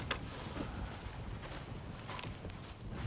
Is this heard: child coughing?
no